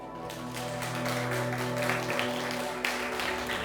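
Church congregation applauding after a call to stand, dense and steady clapping from many people in a hall, with a low sustained tone underneath throughout.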